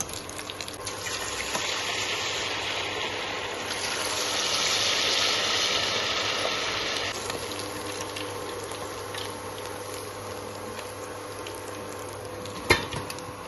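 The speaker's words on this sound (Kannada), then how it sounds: "ಮಸ್ತನಾಗಿ ಆಗ್ಲಕತ್ತಾವ ನೋಡ್ರಿ ಫ್ರೈ." Chicken kebab pieces frying in hot oil in a home kitchen, a soft steady sizzle that swells briefly in the middle, with light stirring scrapes and a sharp clatter near the end, no talking.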